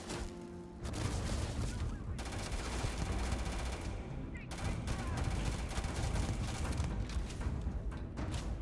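Sustained rapid gunfire from a Starfield firefight, dense and continuous bursts almost throughout, with a brief lull near the start and another around the middle, voices mixed in beneath the shooting.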